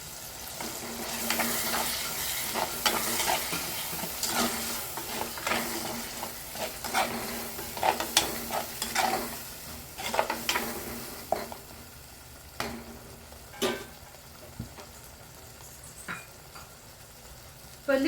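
A ground onion-tomato paste for a gravy frying in oil, giving a close sizzle with repeated spoon scrapes and stirs that ease off toward the end, with no speech.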